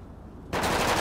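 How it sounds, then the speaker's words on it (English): Automatic gunfire in a GTA roleplay game, a sudden dense, loud burst of rapid shots that starts halfway through and continues to the end, with no talk. "Automatic gunfire!"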